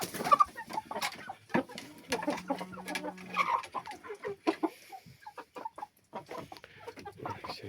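Chickens and roosters in a home backyard flock, including black Brazilian breed hens, a blue rooster and a red one, cluck in short bursts with a brief crow-like call, fairly faint and intermittent.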